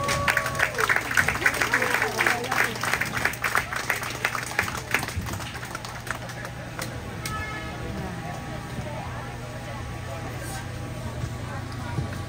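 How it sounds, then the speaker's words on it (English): An audience claps and cheers at the 3rd Micronesia Expo 2024 on Kosrae State day. The dense clapping is loud over the first half, then fades into crowd murmur and voices that continue throughout. "Can I have a round of applause,"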